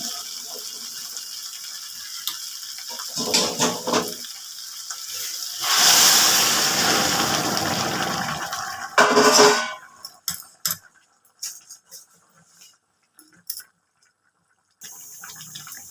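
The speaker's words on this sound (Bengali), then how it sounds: "এবার আমি গরম জল দিয়ে দিচ্ছি।" Hot water is poured into a pot of cooking mutton curry, making a rushing gush for a few seconds between shorter splashes, then several scattered clinks and quiet gaps.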